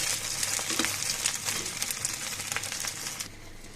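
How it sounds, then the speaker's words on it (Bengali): Two eggs frying in a pan give off a steady, moderately quiet sizzle with fine crackles and occasional spatter pops throughout, heard alone without talk. "দুটো ডিম ভেজে নিচ্ছি দুই রকমের"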